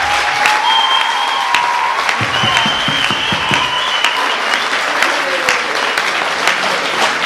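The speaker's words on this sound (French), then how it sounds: "on peut les applaudir." Loud, dense applause from an audience at a hip-hop dance battle final, steady and sustained throughout, with crowd whistles rising above the clapping.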